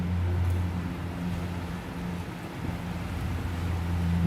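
Strong wind blows steadily through trees, a broad, continuous roar with a low rumble underneath that swells and eases slightly, with no voices.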